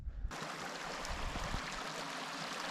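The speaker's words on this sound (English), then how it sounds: "That's a stream that comes out of those lakes and goes crashing down the mountains as a beautiful waterfall." A high-altitude mountain stream flowing out of lakes before tumbling down as a waterfall, heard as a continuous, fairly faint rushing wash of water with no voices.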